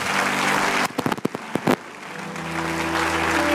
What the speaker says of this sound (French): Vas-y, jeune homme, acclamez le Seigneur pour lui